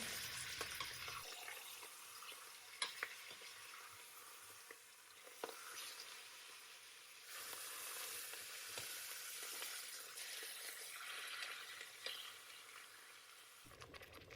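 Vegetables and spices sizzle in lard over high heat for a broth, a steady faint crackling hiss with occasional stirring clicks throughout.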